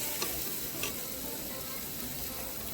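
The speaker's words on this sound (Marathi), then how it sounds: "मेथी याच्यामध्ये घालणार आहे. छानपैकी आपण याला फिरवून घेणार आहे" Chicken with freshly added fenugreek leaves gets stirred in a hot pan, a steady sizzle and frying hiss filling the whole stretch with a couple of faint scraping ticks from the spoon.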